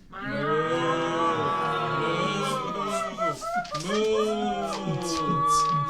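Several voices let out long, wavering moos in imitation of cattle, overlapping and loud, with pitch sliding up and down.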